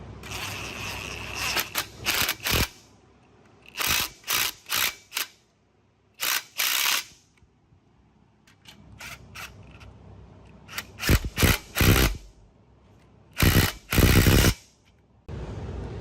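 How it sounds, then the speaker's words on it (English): Bolts being slowly screwed in while a front control arm is installed, heard as loud, close bursts of rapid ratcheting clicks separated by short pauses. "just go ahead and slowly screw them in"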